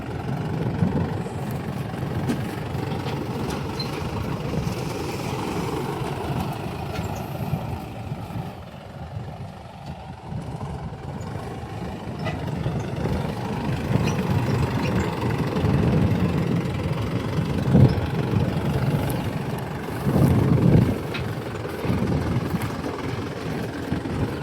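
A tractor engine runs steadily in a farm field, a low continuous rumble with a slight knock that swells and eases over about twenty-five seconds, heard fairly close.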